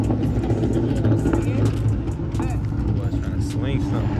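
Ford Mustang Shelby being driven at a Colorado car meet, a loud deep engine rumble holding steady throughout with rising whine, crowd voices and chatter mixed over it.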